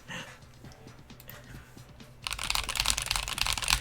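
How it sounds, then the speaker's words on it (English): Rapid clicking of a computer keyboard on an electronics workbench during a PCB design and soldering session, quiet and scattered at first, then turning into a louder, denser burst of keystrokes. "Your keyboard sounds so good?"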